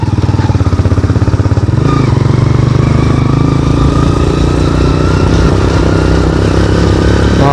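KTM motorcycles, a Duke 200 and an RC 200, riding on the road, with a loud, close engine drone that pulses rhythmically at first, then settles into a steady buzzing hum as the bikes cruise along.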